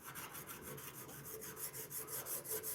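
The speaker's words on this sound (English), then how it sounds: "We'll take our coarse scrubber." A coarse scrubber rasps steadily across heavy grime on a wood cook stove, a close, continuous rubbing scrape with rhythmic back-and-forth strokes and no talking.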